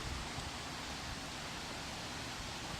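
A filling creek rushes during a rain and wind storm, heard as a dense, steady broadband wash of flowing water and rain, even and unbroken with no voices.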